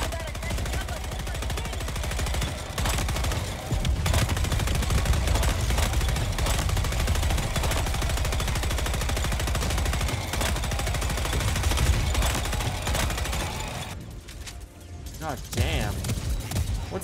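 A mounted gun firing in Helldivers 2, sustained heavy automatic bursts with mechanical clatter, loud and near, with a brief pause near the end before firing resumes; voices talk over the shooting.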